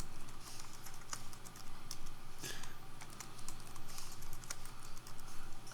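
Rapid close keystrokes on a computer keyboard as a password is entered during Pop!_OS 22.04 setup, an uneven run of clicks with a few louder taps and no speech.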